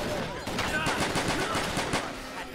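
Rapid gunshots in the zombie survival video game Zombie Panic, a dense continuous rattle of fire close and loud with no real pauses.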